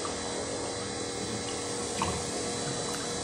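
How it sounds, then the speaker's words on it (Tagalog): A Samsung washing machine drains water in a steady, rushing flow with a faint pump hum, continuous and moderately close, with no voices. "Yan guys, malakas na yung drain nya"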